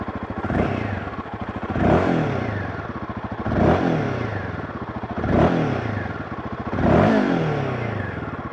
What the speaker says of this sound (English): it's a new liquid cooled engine, which is a first for the company. So does it sound like a Royal Enfield?